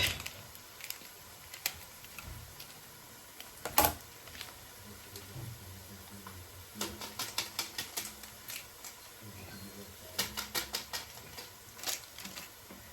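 Knife chopping food on a cutting board while a stew cooks, scattered sharp taps and quick rhythmic clusters of light chops, close and faint with no talking.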